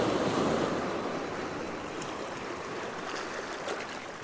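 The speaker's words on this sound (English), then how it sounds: "Here comes a good wave now." Ocean surf rolls onto a shore in a steady broadband wash, loudest at the start as a wave breaks and then easing into a continuous hiss of water running back, with light wind on the microphone.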